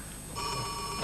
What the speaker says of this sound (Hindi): सर फोन अटेंड कीजिए। फोन टेलीफोन आ गया था।